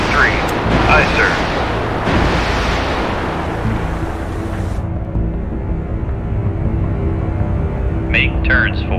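A submarine torpedo launch in the Cold Waters video game gives a loud, broad rushing blast for several seconds, then cuts to a low rumbling hum, with a brief voice near the end.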